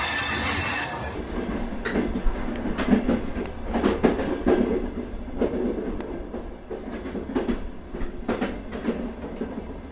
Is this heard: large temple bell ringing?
no